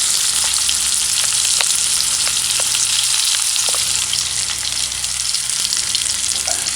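Tofu and spring beans sauté in a hot pan, giving a loud, continuous close-up sizzle with scattered crackles and pops throughout, no voices.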